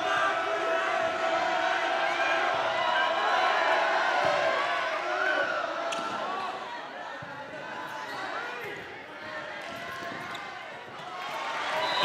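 A boys volleyball playoff crowd in a gym at match point, a sustained roar of cheering and yelling voices that swells, dips midway, then rises again with a sharp burst at the end.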